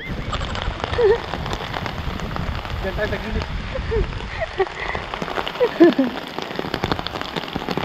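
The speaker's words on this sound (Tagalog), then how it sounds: "Ah, lakas ang ulan!" Heavy rain pours in a rural province setting, a dense steady roar of drops hitting surfaces close by, with people talking under it.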